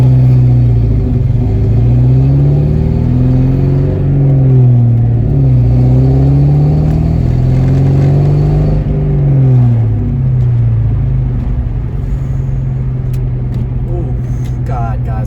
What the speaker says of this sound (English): I am so in love with this car's sound